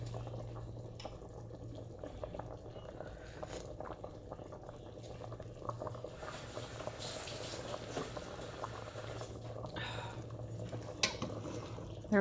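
Quiet bubbling of meatball soup (albondigas) simmering in a pot, a soft continuous gurgle with occasional faint clinks, no talking.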